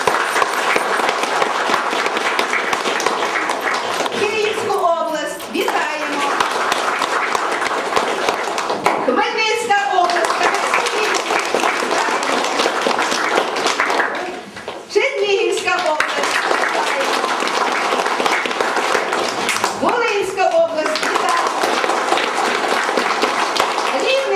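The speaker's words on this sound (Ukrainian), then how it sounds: "Давайте їх привітаємо аплодисментами" Applause welcoming guests at the opening of a youth science and technical competition, steady crowd clapping with children's voices and a speaker audible at intervals over it.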